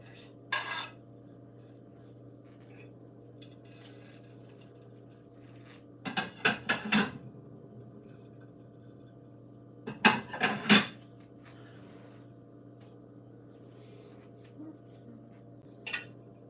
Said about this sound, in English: get your dishes nice and clean